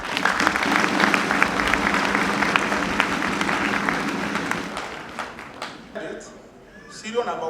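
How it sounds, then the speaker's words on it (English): A graduation ceremony audience applauds the chief guest with a loud, dense wash of clapping that holds steady for several seconds, then thins and fades near the end as a voice starts speaking over the last scattered claps. "Can all of us clap for our chief guest?"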